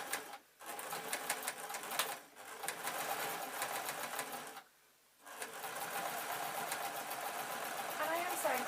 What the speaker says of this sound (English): I'm going to start off sewing like that, and then I'm just going to ease it over